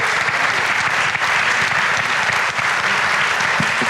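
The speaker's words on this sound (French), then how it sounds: "on peut encore les applaudir" Continuous, loud applause from the audience at a business awards ceremony, the Nièvre company trophies, dense and even throughout with no speech over it.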